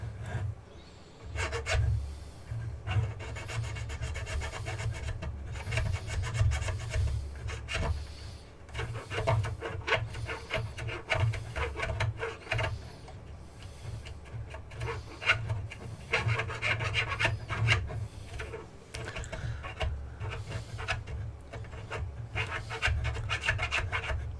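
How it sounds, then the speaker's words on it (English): A hand file rasps through a hole in a Baneblade model kit to size it for LEDs, with continuous close scraping strokes in an uneven back-and-forth rhythm, no talk. "file just to go snugly through a hole, it's about the right size for the LEDs."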